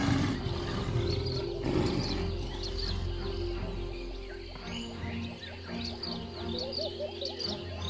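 A lion gives deep, rumbling roars in a wild setting during a clash with a honey badger, loud at first and then fading, with scattered animal calls and chirps over the low growl.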